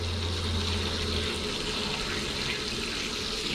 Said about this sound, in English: open the pressure relief, let water come out of it